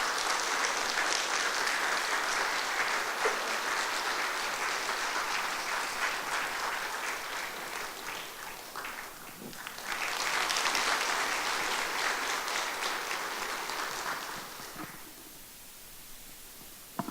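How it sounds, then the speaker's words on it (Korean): A church congregation at a spring revival service claps loudly to welcome the pastor, a sustained dense roar of applause that dips briefly, surges again and then fades toward the end. "이제 목사님 나오실 텐데 우리 크게 한번 박수로 환영하도록 하겠습니다"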